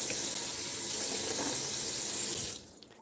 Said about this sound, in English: she has to do these dishes